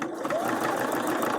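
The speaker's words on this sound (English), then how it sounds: "it allows me to sew" A Juki HZL-F600 sewing machine stitches fabric with a fast, steady mechanical whir that runs continuously and close by at moderate loudness.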